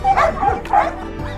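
Several dogs bark and yip close by at an animal shelter, a short loud burst of overlapping barks with whimpering tones.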